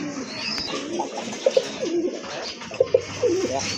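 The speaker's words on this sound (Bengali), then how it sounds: "আজকে আল্লাহর রহমতে বেশ কিছু কবুতর দেখামু, একেবারে গুণগত মানসম্পন্ন" Pigeons at a Bangladeshi pigeon farm coo in short repeated bursts, a few close rounded calls rising over steady background hum and faint bird chatter.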